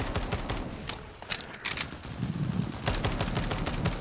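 Enemy machine gunners fire in Black Ops 3 Zombies, rapid continuous bursts of gunfire, loud and dense, with steady rattling throughout.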